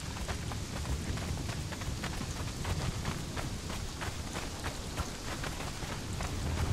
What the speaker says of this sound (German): es ist dunkel und regnet